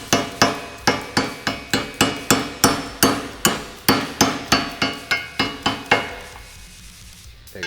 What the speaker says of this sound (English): Now we're going to take our sleeve and install it into the bushing.